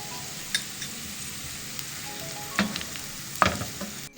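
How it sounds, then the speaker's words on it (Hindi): Onions and white cumin seeds fry in a pan with a steady, close sizzle, broken by a few sharp clinks of a spoon stirring against the metal; no one speaks. "हमारी प्याज है वो थोड़ी फ्राई हो रही है"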